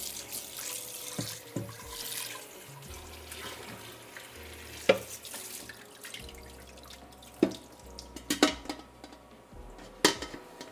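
Spelt grains are rinsed under a running kitchen tap, with a soft steady water flow broken by irregular splashes and drips, fairly quiet and without talk.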